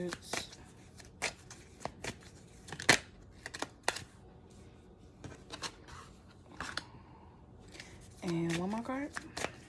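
Tarot cards shuffled and drawn during a love reading: crisp, sharp riffles and snaps come in separate bursts at an irregular pace, close and clear in a quiet room, with a brief voice near the end.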